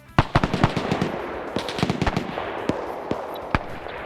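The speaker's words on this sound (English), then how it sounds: "Now the M2 firing up as well as Mobile X continues to maneuver around." An M2 machine gun fires in a WW2 video game, sounding as rapid irregular bursts of sharp cracks mixed with distant explosions and battle noise, loud and continuous, with no talking.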